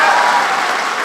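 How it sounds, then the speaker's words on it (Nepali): Applause from a crowd at a ceremony marking a move into a newly built house, steady dense clapping filling the whole moment at close range. "एकपल्ट ताली बजाउनुहोस् न, खुसी हो।"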